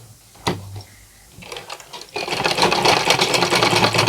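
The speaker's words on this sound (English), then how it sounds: "And then I'm going to top stitch this area." A sewing machine topstitches a side slant pocket, starting with a few isolated clicks and short runs, then settling into a loud, continuous rapid stitching chatter close up.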